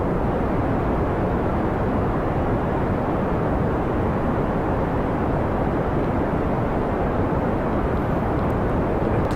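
Jet car engine in the Kerbal Space Program video game, a continuous loud broadband roar that holds steady and unbroken throughout, with no voices.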